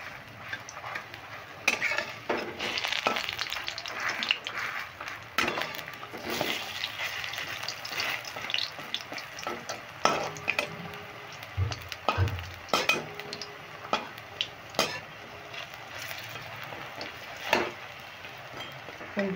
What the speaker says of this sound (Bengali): এবার আমি উল্টিয়ে দিচ্ছি, উল্টিয়ে এমনি খুন্তি করে আবার একটু চ্যাপটা করে দিচ্ছি